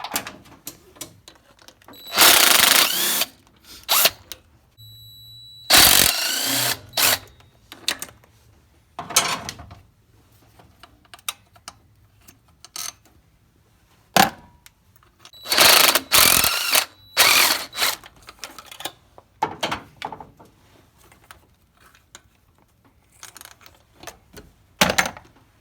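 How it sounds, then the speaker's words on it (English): A ratchet wrench loosening the throttle body bolts on a 1992 Ford F150 engine, several long bursts of rapid metallic clicking separated by pauses and small clanks, close and loud. "There's 4 bolts on each corner. So just loosen all those and take them out, and then the throttle body should come off."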